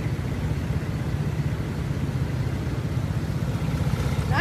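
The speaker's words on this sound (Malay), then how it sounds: "Untuk mengelakkan jam, kita kena naik motor." A Modenas motorcycle engine hums steadily on a Kuala Lumpur road, a close, continuous mid-pitched drone with no voices.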